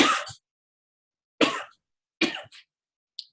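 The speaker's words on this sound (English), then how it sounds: "And I really have to cough really, really bad." Several sharp, separate coughs from one person during a team call, close and fairly loud, with pauses between them and a short faint sound at the end; no talking.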